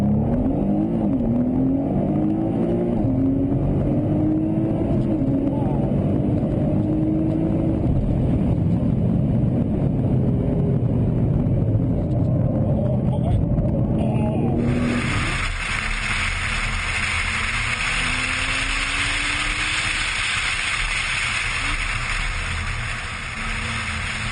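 A Nissan GT-R accelerates from 0 to 100, its engine climbing through several rising gear pulls, loud and continuous, with the tone shifting partway through as it keeps speeding.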